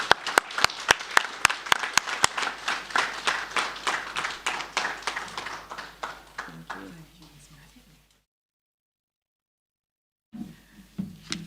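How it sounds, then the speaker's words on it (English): Audience applause at a phlebotomy class graduation ceremony, a crowd clapping steadily and loudly, then thinning and fading out before a pause, followed by a speaker's voice. "Another round of applause for our featured speaker."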